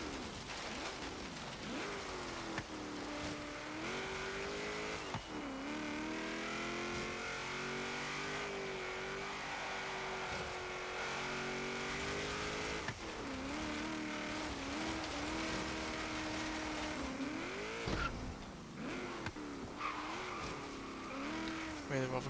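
A 1973 Ford XB Falcon GT in Forza Horizon 3 autocross, its engine note rising and falling through repeated revs and gear changes, with brief tire squeals and no pause in the drone.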